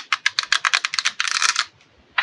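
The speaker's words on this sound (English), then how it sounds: "Let's give these cards a good shuffling" A deck of playing cards being shuffled up close: a rapid run of crisp riffling clicks for about a second and a half, a brief pause, then one more snap.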